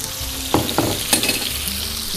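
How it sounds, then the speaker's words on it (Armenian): Food frying in a pan with a steady, loud sizzle, broken by a few sharp scraping stirs of a utensil, with no talking. "Տապակում ենք, տապակում ենք։"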